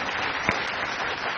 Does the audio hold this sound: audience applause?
yes